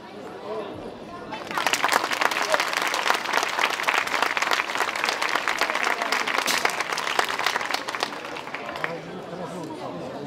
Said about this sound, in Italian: Al verde via con l'applauso